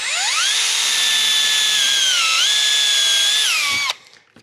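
A power drill whines steadily close by while driving screws into a ceiling vent mounting ring, its pitch dipping briefly under load before cutting off sharply at the end.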